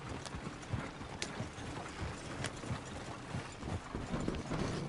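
Horse hooves clip-clop in a steady rhythm in Red Dead Redemption 2, joined by faint creaking and rattling tack, moderately close with no talking.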